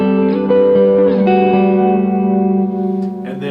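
An electric guitar plays a harmony phrase against ringing open strings, with sustained, overlapping notes and audible effects and reverb, loud and close without speech.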